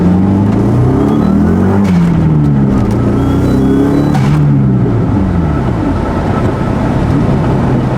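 A Dodge Neon SRT-4 pulls hard in first gear, its turbocharged engine droning loud and close as the revs climb in rising sweeps that drop back with each shift.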